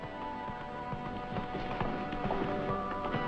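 A horse's hooves clop in an irregular, quick rhythm during a riding routine, close and fairly loud against a steady background.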